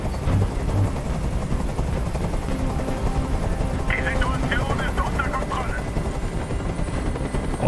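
A helicopter's loud rotor drone in the video game Detroit: Become Human fills the scene, with bursts of gunfire and shouting voices mixed in over the steady noise.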